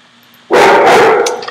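One loud, close dog bark bursts out sharply and rings briefly before fading, with nothing else around it.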